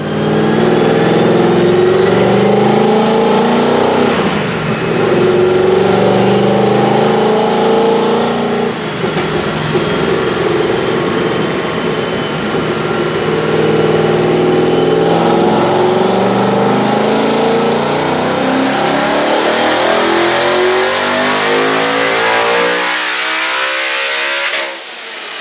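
A turbocharged stick-shift Hellion street sleeper car roars loudly through a full dyno pull on wastegate at about 6 to 7 psi of boost, its engine note climbing steadily through the gears before cutting off near the end.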